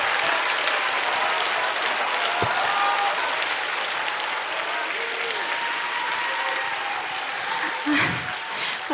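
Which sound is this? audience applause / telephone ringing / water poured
audience applause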